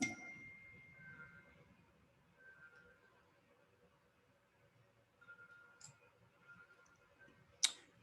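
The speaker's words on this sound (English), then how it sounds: "So I'm going to click and select all of these." Mouse clicks during a screen-recorded lecture on text, lists and tables in design software: a few faint, sparse clicks in a quiet room, with one sharper click near the end.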